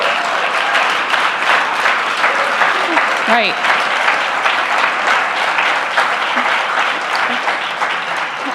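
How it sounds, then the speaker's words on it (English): A large convention audience gives the staff sustained loud applause, a thick continuous wash of clapping that stays strong for several seconds, with a few voices calling out over it. "can we please clap again for our staff?"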